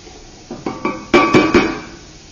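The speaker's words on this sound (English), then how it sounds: "mix it up, stir it." A spoon knocks and scrapes against a pot while cannellini and kale soup is stirred, six clear metallic clinks in an uneven rhythm, close and fairly loud.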